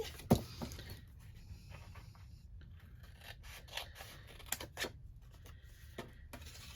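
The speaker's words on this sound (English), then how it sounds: "So I'm just going to cut this to the length I need it to be." Scissors snip a paper strip into a belly band, several crisp separate cuts with soft paper rustling between them, close and quiet with no talk.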